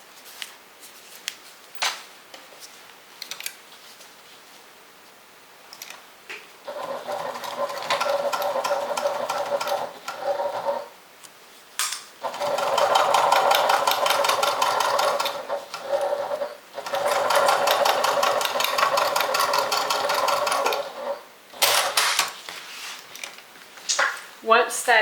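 Sewing machine stitching the lining seam of a makeup and toiletry bag at a half-inch seam allowance: several steady whirring runs of close stitching separated by pauses and fabric handling, with no talk over it.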